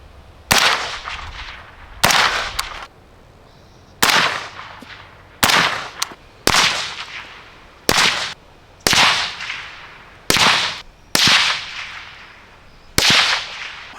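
Shots from a Romulus 556 suppressed rifle at an outdoor range, about eleven sharp cracks fired one at a time with short pauses, each loud and close with a brief decaying tail, no talking.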